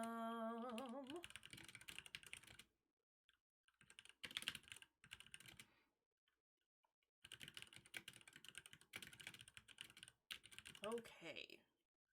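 Someone types on a computer keyboard in quick bursts of clicking keystrokes separated by quiet pauses, close and moderately loud, with a brief voice heard at the very start.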